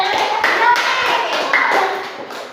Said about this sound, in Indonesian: tepuk tangan buat bonusnya